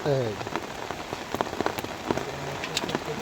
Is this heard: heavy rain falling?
yes